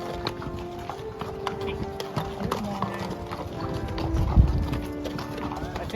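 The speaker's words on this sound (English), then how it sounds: "some horses or mules are passing us now" Horses or mules clip-clop past on the Bright Angel Trail in the Grand Canyon, their hooves striking the rocky path in a steady, close series of hoofbeats amid outdoor ambience and faint voices.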